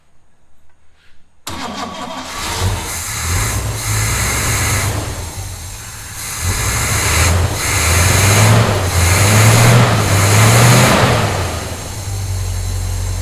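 A 1970 Chevy C10 truck engine is cranked and catches, then settles into a loud, close idle with a rising rumble and a few uneven surges.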